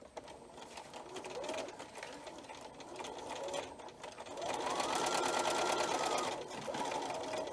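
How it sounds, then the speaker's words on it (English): A sewing machine runs in steady bursts, its rapid needle clatter speeding up and slowing, with faint voices underneath. "So I'm at the sewing machine, and I will sew the border strip on to the border fabric."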